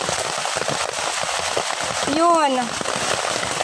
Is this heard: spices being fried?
no